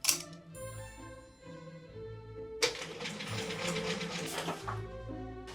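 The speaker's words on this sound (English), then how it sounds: "Make sure that you only stitch the facing to the lining so that no thread is visible on the fashion fabric." Sewing machine stitching the facing to the lining of a wedding gown, a steady mechanical whir with ticking and humming, heard close and moderately loud behind faint background music.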